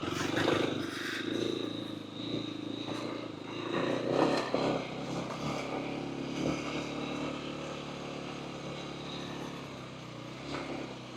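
A Kawasaki KLX300 dirt bike runs along a rocky Nevada canyon trail, its engine droning steadily with shifting revs and some wind rush, fairly faint and continuous throughout.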